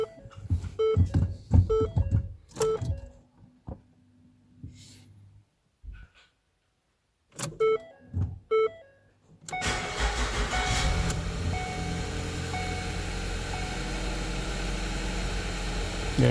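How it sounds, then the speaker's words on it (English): A Ford EcoBoost engine fresh from timing belt, water pump and crankshaft pulley replacement in a workshop: scattered clicks and thunks with pauses, then the engine catches and settles into a steady, close running drone. "start the engine here."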